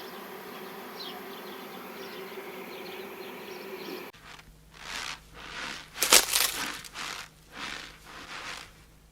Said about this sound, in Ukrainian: матка втекла і бджоли за нею